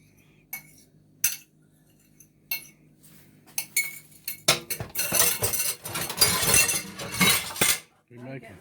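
Metal fork clinking and scraping against a casserole dish while mixing broccoli casserole ingredients, sparse taps at first, then a dense run of rapid stirring and scraping for about three seconds before it stops.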